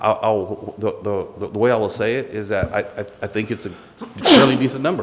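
A single sharp sneeze bursts out near the end of a spoken presentation at a board meeting, loud and brief, following steady talk by a man.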